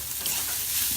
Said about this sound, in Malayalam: അതിലേക്ക് ചെറിയ ഉള്ളി, വെളുത്തുള്ളി, കറിവേപ്പില കൈയെടുക്കാതെ ഇളക്കുക